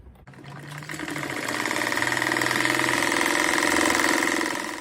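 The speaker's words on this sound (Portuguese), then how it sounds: "aqui eu passo uma costura com a largura do pé da máquina" Sewing machine stitching a seam on a patchwork rug, a rapid even mechanical whir that starts after a brief pause, builds and runs continuously close up before easing off at the end.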